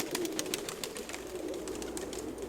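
Pigeons kept by various fanciers coo softly in a steady, overlapping chorus, a low murmuring drone with faint rhythmic pulses, heard alone without talk.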